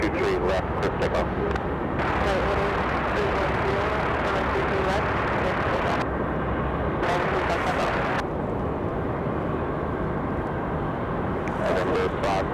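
Airplane departing from runway 23 left at Raleigh-Durham International, a steady broadband jet roar filling the whole stretch, with radio-style talk over it.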